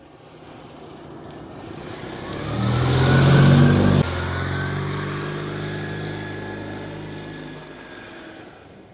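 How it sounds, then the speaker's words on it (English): An Invacar with a centrifugal clutch and CVT drives off, its small engine whirring and buzzing as the revs rise to a louder peak, then dropping to a steadier drone that fades gradually. "So centrifugal clutch engages as the revs rise, and then the CVT takes over."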